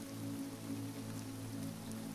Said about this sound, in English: the rain begins to fall steadily